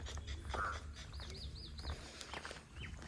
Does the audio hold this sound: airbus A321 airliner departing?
no